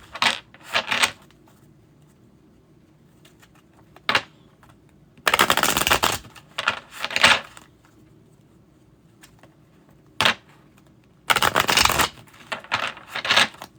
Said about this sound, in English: let me know when you have your question ready and I'll start shuffling